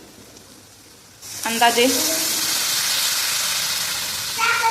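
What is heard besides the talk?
milk being poured onto sabudana for kheer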